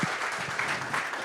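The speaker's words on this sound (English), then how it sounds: "How about a round of applause?" A brief burst of audience applause for two speakers at a pub talk, a short steady patter of clapping with no voices.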